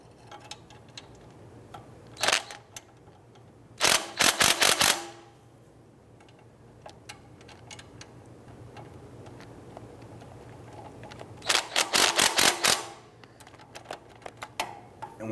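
Bolts on the exhaust manifold flange of a 1999-2004 Jeep Grand Cherokee 4.7L V8 being tightened evenly with a hand ratchet, giving two bursts of rapid clicking plus a few isolated clicks against a quiet garage background.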